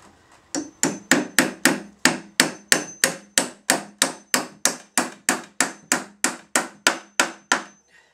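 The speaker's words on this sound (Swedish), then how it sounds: "Hamra lite." A steady run of about twenty hammer blows on a wooden plank while extending stair steps for a trampoline, evenly spaced and close, each sharp knock ringing briefly before the next.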